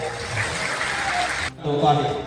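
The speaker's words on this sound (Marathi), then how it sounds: "टाळ्यांचा गजर आपण करूया" A crowd applauds at a Dhangar community felicitation during a birth-centenary ceremony for a cooperative leader in Maharashtra: a dense, steady wash of clapping that dips briefly and then swells again, with voices mixed in.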